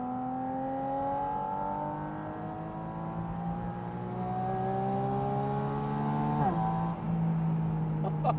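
Porsche 718 Spyder RS with open-top air intakes, its engine heard from inside as it revs up through long climbing pulls, a sharp drop at a gear change, then climbs again, steady and fairly loud.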